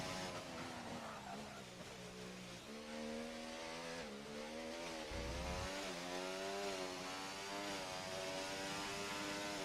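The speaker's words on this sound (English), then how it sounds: "I'm trying to stay as silent as possible so you can have a great sound of the engine." A race car engine screams at high revs in a racing video game at the Japanese Grand Prix, pitch sweeping up and down through gear changes and corners, loud and continuous with no talk.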